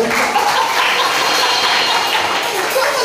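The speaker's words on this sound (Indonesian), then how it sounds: "Tepuk tangan dulu." A church congregation claps together during a service, a dense steady wash of applause lasting a few seconds, fairly loud and close.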